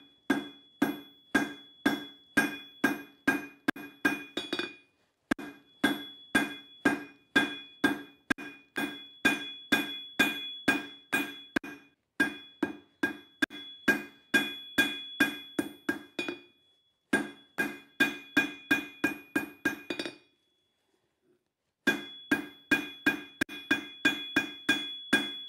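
Steady hammer blows forge a hexagon onto a steel slag (chipping) hammer, ringing metallic strikes in quick rhythmic bursts of about ten to fifteen, separated by short pauses, loud and close with no talk.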